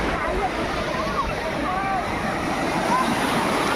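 Sea waves at the beach in Puri make a steady, close roar of surf mixed with wind noise, continuous throughout.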